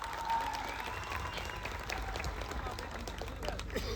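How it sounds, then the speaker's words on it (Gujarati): Crowd at an outdoor political victory rally applauding, a dense, steady wash of clapping that holds at even level throughout with no voices standing out. "એમને તાળીઓથી આપણે વધાવી લેવાના છે"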